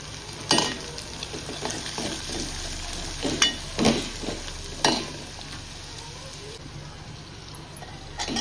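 Turmeric, garam masala and Aagri masala frying in a pan for chicken liver, a steady sizzle broken by repeated scraping stirs and spoon knocks, loud and close.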